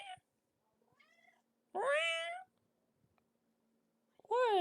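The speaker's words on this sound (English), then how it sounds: "you fucking rotten cat" A cat meows loudly and close by, two long drawn-out cries separated by quiet, with a faint bit of earlier vocalizing.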